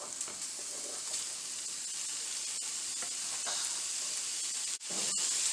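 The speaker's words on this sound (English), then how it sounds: "let's put our sausage in the pan" Sausage dropped into a hot frying pan sizzles loudly and steadily, a bright continuous hiss with small crackles and a brief dip near the end before the frying resumes.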